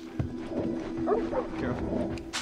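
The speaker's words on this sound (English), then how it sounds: "So what about these dogs? They're wild-ass dogs." Wild dogs in the video game The Last of Us Part II give growling, whimpering barks and snarls, moderately loud and repeated, with someone talking over them.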